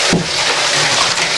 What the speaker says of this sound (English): We'll turn the shower on you